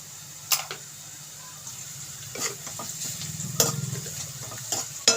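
Vegetables for veg fried rice being stirred and tossed with salt in a hot pan, a low steady sizzle with occasional sharp clinks of a spoon against the pan, fairly quiet and close, with no talking.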